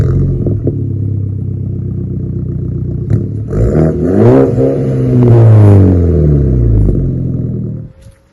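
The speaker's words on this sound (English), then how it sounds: "the owner of this car got a custom exhaust tip which makes a pretty nice sound" A 2014 BMW 320i four-cylinder with a custom exhaust tip revs hard, rising and falling through several loud, close blips before dropping back to idle at the end.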